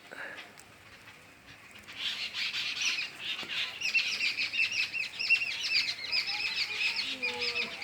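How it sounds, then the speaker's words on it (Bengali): Birds chirp and tweet around a bitter gourd garden, a busy run of small calls starting faint and growing denser and louder midway, moderately distant over quiet outdoor background. "আগে পাখিদের আওয়াজ একটু শুনে নিন"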